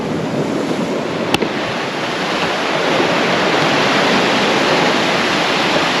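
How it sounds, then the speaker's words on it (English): Sea swell surges and waves break near the shore, a loud, broad, steady rushing wash with one sharp click early, close and unbroken, no voices. "Look at the swell over here now."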